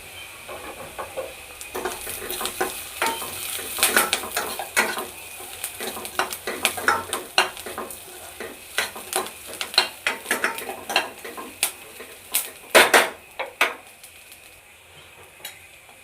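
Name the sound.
stirring onion, curry leaves and ground spice powder in pan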